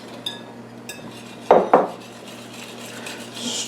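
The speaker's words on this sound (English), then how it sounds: "Stir until you have a batter." A spoon works a dry mixture into apple skillet cake batter in a bowl, giving soft scraping with two sharp clinks against the bowl midway and light clatter around them.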